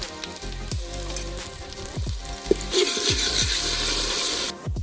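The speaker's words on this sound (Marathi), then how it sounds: "आलं, लसूण आणि कोथिंबिरीचं वाटण आहे ते ॲड करूया आणि व्यवस्थित परतून घेऊया" Ginger, garlic and coriander paste sautéing with onion in a pan, a steady close sizzle broken by repeated scraping strokes of a spatula, the frying hiss growing brighter and denser toward the end.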